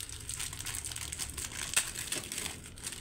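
A plastic bag holding soap paste and salt crinkles and rustles as it is pulled out by hand, a close, continuous crumpling with one sharper crackle partway through, no talking.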